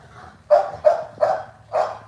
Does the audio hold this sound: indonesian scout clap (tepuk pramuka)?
no